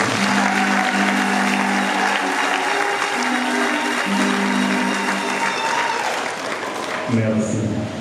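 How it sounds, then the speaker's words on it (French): Audience applause at a church youth group ceremony marking a 40th anniversary, a dense continuous wash of clapping running throughout, with a low sustained tone or voice underneath. "Applaudissons très fort pour eux."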